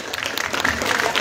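Applause for the cast and filmmakers at a live Indonesian entertainment event: a short, dense burst of steady clapping from an audience, loud and continuous with no break.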